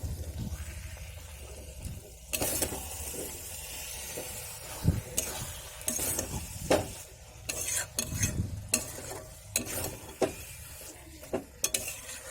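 Fish heads are broken up and stirred with a spoon in a frying pan along with fried spice mix, giving repeated scraping, clinking strokes over a steady low sizzle, close and fairly loud, with no talking.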